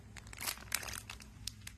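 Cotton-ball-like stuffing from a Nightmare Before Christmas crochet kit being torn apart by hand: brief close crinkling, fibrous tearing rustles in quick bursts, quiet and alone.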